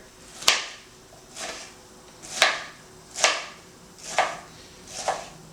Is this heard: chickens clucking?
no